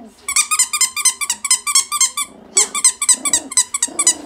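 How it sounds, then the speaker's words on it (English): Squeaky toy offered to four-week-old English Mini Goldendoodle puppies, giving bursts of rapid, rhythmic high-pitched squeaks, loud and close, repeated in a quick series with brief pauses. "Do you want to play with your toys? Yes, it makes noise."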